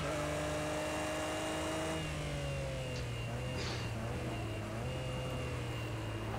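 An Audi V8 DTM race car engine in Project CARS 2 drones steadily with harmonic tones, pitch rising and falling as gears shift, a continuous loud whine throughout.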